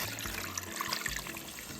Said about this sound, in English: And then now we are going to cover this whole thing with water.